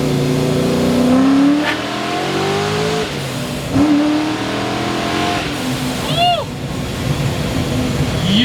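A 620-horsepower Mystic Cobra's engine revs hard in third gear, rising harmonic sweeps climbing and dropping through several pulls, loud and close, with brief voices and faint whistle-like tones mixed in.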